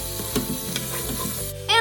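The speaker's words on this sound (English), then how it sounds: "Then I'll add my celery to the pot. And I'll give that a quick stir." Celery being stirred in a pressure cooker pot on the sear setting, a steady close sizzle with scraping stir strokes throughout and a brighter burst of sizzling at the end.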